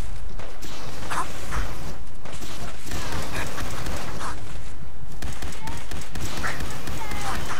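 Fallout 4 combat with repeated gunshots and bursts of fire crackling over a busy, mechanical background, loud and irregular, with a player's voice talking at times over the shooting.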